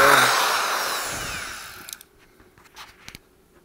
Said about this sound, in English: and I drill.